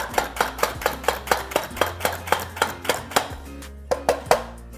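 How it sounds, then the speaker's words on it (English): Onions being chopped with a hand-operated kitchen chopper gadget, a quick regular series of sharp clacking chops, loud and close, pausing briefly before a few final strikes. "if you wanted to, you could continue chopping"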